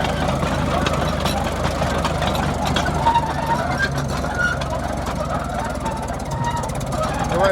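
An old tractor engine, at a line-up of Caterpillar, Farmall and John Deere machines, chugs steadily at mid pitch as it pulls away in first gear, loud and continuous with some rattling.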